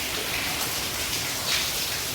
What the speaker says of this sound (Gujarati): અત્યારમાં વરસાદ થઈ ગયો ચાલુ ધીમે ધીમે પાછો